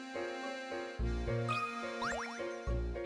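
Bright chiming jingle of a hint coin being collected in the video game Professor Layton and the Curious Village, a quick cascade of rising tinkling tones over light game music, with no voices.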